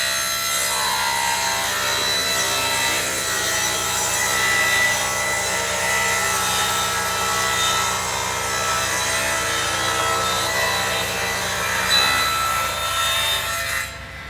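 Steady sawing through an UltraBaseSystems base panel held spike side up, with continuous rasping wood-like cutting noise running loud and unbroken for the whole stretch, no talking.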